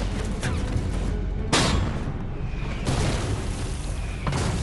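Heavy booms from 25-pounder field guns, Second World War artillery shelling a position near Falaise in 1944. Three loud, sharp blasts land about a second and a half apart over a constant rumbling background.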